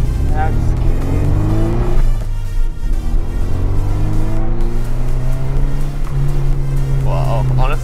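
A modified Toyota MR2 driving, its engine loud and close from inside the cabin, revving up through rising and falling gear pulls with a constant droning roar, and people talking over it.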